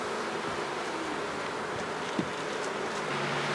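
Honeybees in a 5-frame medium hive make a continuous, close buzzing drone, with one brief knock partway through.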